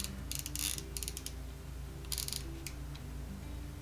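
An ODDSPRO kids' fishing pole reel cranked by hand and running rough, a fast grinding ratchet-like clicking with gear whir, close and quiet, in uneven bursts.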